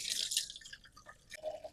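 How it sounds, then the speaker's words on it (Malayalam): Water is poured into a neem cake mixture for garden pest control, giving a faint, brief splash and trickle that lasts under two seconds, with no talk. "അപ്പോൾ ഇതിലൊക്കെ നമുക്ക് വെള്ളം മിക്സ് ചെയ്യാം"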